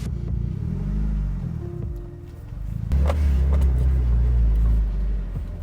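A Mitsubishi Evo 8 engine rumbles steadily while driving, low and continuous, swelling louder partway through as the car picks up speed.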